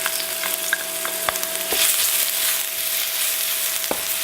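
Garlic and chili paste frying in hot oil in a wok, a continuous bright sizzle broken by a few sharp crackles and spatters, close and steady with no talking.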